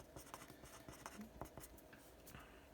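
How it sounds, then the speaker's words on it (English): Pen or pencil writing on paper while working a math exam question, with soft, close scratchy strokes in a steady irregular rhythm and no talking. "So I'm just going to write"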